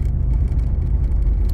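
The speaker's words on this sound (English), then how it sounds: "Don't mind any of the rattles." Rattles and road rumble inside a 1985 Chevrolet Camaro IROC-Z, a 1980s GM car, driving over a rough road; a steady, close cabin drone with loose interior jangling running throughout, with no talking.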